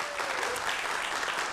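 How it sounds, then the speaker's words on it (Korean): A studio audience breaks into applause for a magician before a science-of-magic demonstration, a dense, steady burst of clapping that fills the room and holds evenly throughout, with no talking over it. "박수 받고 시작해보죠"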